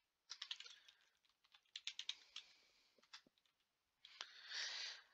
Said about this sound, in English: I'm typing too fast, you know.